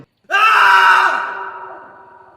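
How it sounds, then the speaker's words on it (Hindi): A single loud, piercing scream bursts out of silence and holds for a moment before trailing off. "फिर एक चीख फटी"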